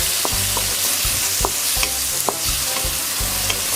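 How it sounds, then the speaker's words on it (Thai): Holy basil and tofu being stir-fried in a pan, with a steady oily sizzle broken by repeated scraping strokes of a spatula at a near, even pace, no voices. "ใส่กระเพราที่เตรียมไว้ลงไปค่ะ ผัดให้เข้ากันนะคะ"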